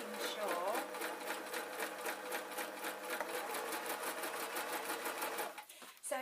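Sewing machine top-stitching a seam on a denim skirt, a steady fast mechanical whir of needle strokes running close and continuous before stopping near the end, with no talk over it.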